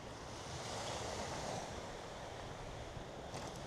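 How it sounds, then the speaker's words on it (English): Waves wash onto an empty beach on Skiathos, Greece, a continuous soft rushing surf with some wind buffeting the microphone, fairly faint and without voices. "Beautiful beach."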